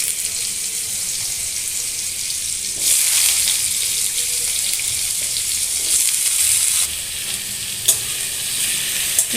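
Cut potatoes and chillies hit hot oil with black cumin and sizzle loudly and steadily, with bursts of louder frying and a few clinks as the pan is stirred.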